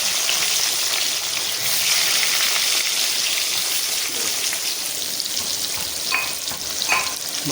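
Potatoes fry in hot oil for chicken curry, giving a steady dense sizzle throughout with a few brief scraping stirs near the end.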